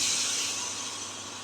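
Water poured into hot spiced oil in a pan for chicken keema, giving a loud, steady steam hiss that slowly fades over a second and a half, with no talking.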